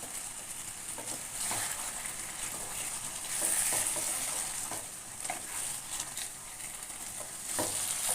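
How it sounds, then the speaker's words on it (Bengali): Chicken with coconut milk being stirred in a pan on the stove, a steady sizzle and bubbling broken by soft scraping strokes of the spoon, close up with no voices. "ভালোভাবে নাড়াচাড়া করে মিশিয়ে নেব দুধ আর চিকেন।"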